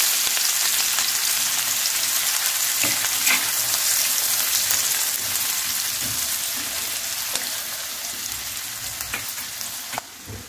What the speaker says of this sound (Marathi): कांद्याला आपण मस्त फ्राय करून घेऊ।